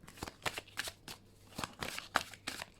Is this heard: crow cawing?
no